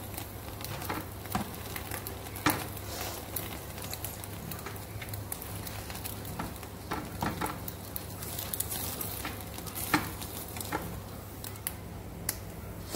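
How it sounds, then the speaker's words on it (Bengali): Egg-soaked bread frying in a pan after being flipped, a soft continuous sizzle with scattered pops and crackles, close but fairly quiet, with a low steady hum underneath. "ভালো করে অপর দিকটা ভালো করে একটু ভেজে বা সেঁকে নেবে"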